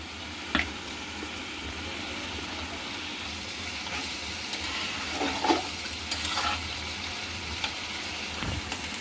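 Tengra fish laid into a pan of cooking gourd peel give off a soft, steady sizzle, with a few scraping stirs and light clinks standing out over the continuous frying hiss.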